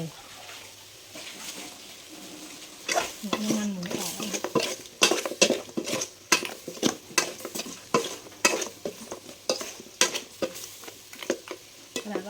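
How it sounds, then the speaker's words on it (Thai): Food stir-fried in a pan over low heat gives soft sizzling under repeated close scrapes and clacks of a utensil against the pan, coming in a steady, busy rhythm. "ค่อยเติมน้ำนะคั่วไฟอ่อนๆนะคะ"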